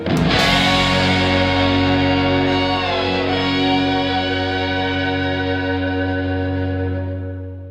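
Clean electric guitar through a Mesa Boogie amp, either a California Tweed or a Mark Five:25, rings out as one loud struck chord that sustains and slowly decays over several seconds.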